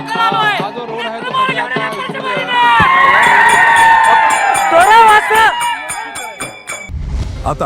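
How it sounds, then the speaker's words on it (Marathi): A crowd of Maratha protesters celebrating, with loud cheering, shouting and whistles blending into a dense, close roar, while a reporter talks over the noise. "इथे मोठ्या प्रमाणात जल्लोष आहे तो आता सध्या साजरा केला जात आहे"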